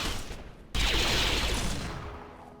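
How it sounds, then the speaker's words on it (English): Gunfire erupts in the video game Rimworld, a sudden burst of dense, crackling shots that continues as a sustained fusillade and slowly fades, loud and close after a short quieter lead-in. "Everybody, force push this thing back and fire at it for crying out loud."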